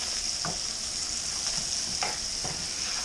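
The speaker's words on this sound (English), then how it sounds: "Stir it up into your caramelized onions." Sugar being stirred into caramelized onions in a hot pan for German potato salad: a constant bright sizzle with a few short spoon scrapes sweeping through it, close and fairly loud.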